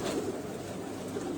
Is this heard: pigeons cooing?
yes